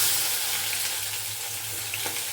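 Onions dropped into hot oil in a pan while making a semolina-style breakfast dish, giving a continuous dense frying hiss, close and fairly loud, steady throughout the short stretch without speech.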